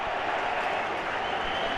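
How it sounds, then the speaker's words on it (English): Football crowd at the Copa America 2021 final between Argentina and Brazil, a steady broadband roar of cheering and applause filling the stadium for almost two seconds without any break. "even just a throw down there in the corner is enough to bring the crowd to life"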